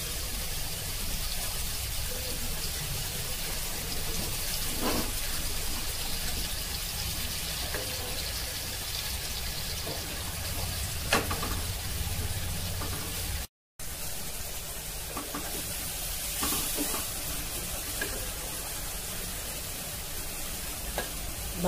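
Cooked dal sizzles in a hot kadai for a Punjabi-style maa ki dal and rajma mix, a soft steady hiss and bubbling with occasional stirring knocks, broken by a brief gap, with no one speaking.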